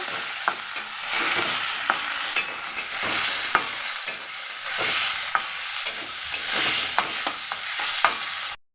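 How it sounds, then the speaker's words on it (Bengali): Cut figs stirred in a frying pan with fish for a Bengali mung dal fritter dish: a continuous hissing sizzle broken by regular scraping knocks of a spatula, close and steady, with no voices. "ডুমুরগুলো আগে থাকতে কেটে রেখেছিলাম দিয়ে দেব আবারও নাড়ব"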